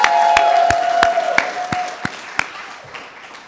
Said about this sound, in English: A large cheering section